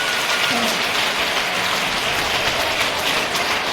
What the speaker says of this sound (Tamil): நல்ல கைத்தட்டல் கொடுங்க